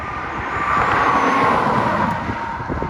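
A Nissan Stagea RS4 all-wheel-drive wagon accelerates hard, its engine a loud, continuous roar that climbs steadily in pitch for about three seconds, with no voices over it.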